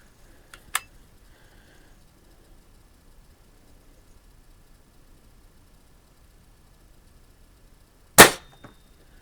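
A Stoeger S3000 shotgun fires at a target. A sharp shot comes early, then quiet, then a second louder blast near the end, both close with a short tail over a faint background.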